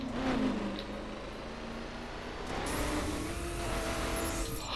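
A Cadillac Eldorado drifts in the racing game The Crew, its engine droning steadily with a rising whine and a surge in loudness midway, heard alone without talk.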